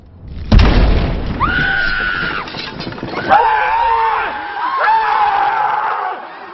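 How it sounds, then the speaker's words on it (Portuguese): A monster smashes through a door in a dramatized horror scene: a heavy booming crash lands early, followed by shattering debris and agitated, screaming voices that rise and fall with further crashes, loud and chaotic throughout. "O Grendel arromba a porta e começa uma chacina"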